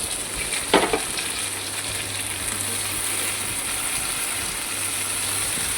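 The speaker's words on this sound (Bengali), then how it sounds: "এটাও নেড়ে চেড়ে হালকা হালকা সতে হয়ে আসবে।" Chopped capsicum being stirred and sautéed in a hot pan for homemade chowmein, a steady close sizzle with a brief scrape of the spoon near the start over a constant background hum.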